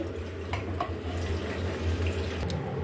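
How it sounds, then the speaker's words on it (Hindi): Fried grapes being dropped into cold water while making angoori halwa, a steady rushing water sound with light splashes and clinks throughout, fairly close and continuous with no talking. "अब इसको हम ठंडे पानी में डाल लेंगे।"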